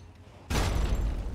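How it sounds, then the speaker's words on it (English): A sentry bot's missile launcher explosion in Fallout 3 erupts suddenly as one loud, heavy blast that rolls on in a dense, rumbling burst after a quiet lead-in. "He has missile launchers too."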